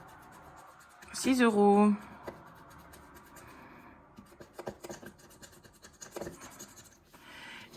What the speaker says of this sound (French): Ah, oui, j'avais remis une carte macaron. On va la gratter.